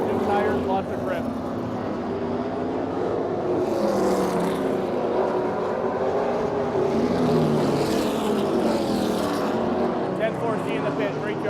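A race car running on track during practice before qualifying, a continuous loud engine drone that rises and falls with speed, with radio talk over it.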